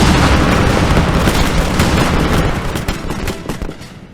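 Dense, loud musket and cannon fire from a Napoleonic-era battle in the Wars of Napoleon strategy game, a continuous roar of overlapping volleys and booms that slowly thins out toward the end.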